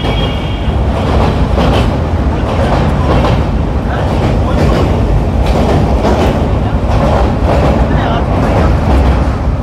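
Loud, steady rumble and rattle of the Ajmer Superfast Express running over the Bally Bridge at night, with continuous wheel clatter and rhythmic clicks carrying on throughout.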